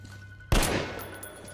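A single unsilenced pistol shot rings out in Metro Last Light Redux, a sharp loud crack with a decaying tail, set against a quiet low hum of game ambience.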